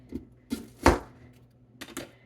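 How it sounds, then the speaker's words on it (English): A knife chops through a hard onion on a board, giving a few close, sharp thuds: two light cuts, a heavier chop, then a pair of quick knocks, each clearly separated with no talking. "I've never seen such a hard to cut onion. Okay, and then you cut it again."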